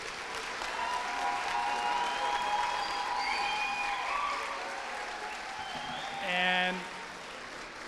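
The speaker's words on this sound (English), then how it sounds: "Let's give them a round of applause." A crowd applauds steadily for several seconds at a Buena Vista Class of 2022 ceremony, the clapping swelling briefly near the end while a voice speaks over it.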